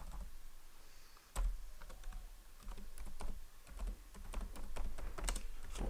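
Fingers typing on a computer keyboard, quick irregular clicks and taps close by at a low level, with short pauses between bursts of keystrokes.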